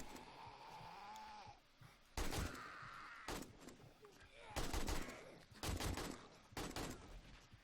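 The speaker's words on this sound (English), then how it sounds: "This is where you switch to your machine gun." Machine gun fire in the survival game 7 Days to Die, several bursts of loud rapid shots spread across the clip, with ambient game noise and a voice speaking in between.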